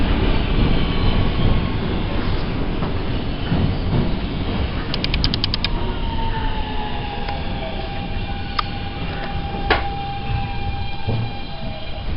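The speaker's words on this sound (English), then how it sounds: "This is a Whitehall Street bound W local train" A New York W local subway train runs steadily between 59th Street and 57th Street–7th Avenue, its continuous loud rumble and rail noise filling the car, with brief tonal squeals and clicks rising now and then.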